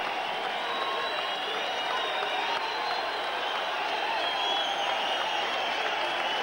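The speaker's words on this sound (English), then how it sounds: "And the crowd loving that." A boxing arena crowd keeps up steady, dense applause and cheering after the referee stops the fight, a continuous wall of clapping and shouts that holds at an even level throughout.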